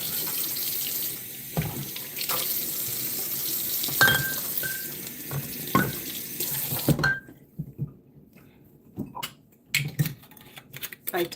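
Sorrel is rinsed under a running kitchen tap, the water pouring steadily for several seconds before it is shut off, leaving scattered clinks, drips and handling noises close by.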